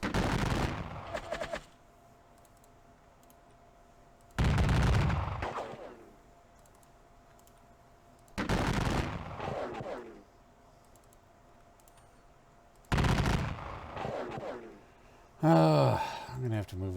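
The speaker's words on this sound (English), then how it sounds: "We'll start shooting at the rebels down at Cassville." Bursts of musket gunfire against rebels in a Civil War strategy game set at Cassville, four loud crackling volleys of about two seconds each separated by quiet gaps, with a brief whistling effect at the end.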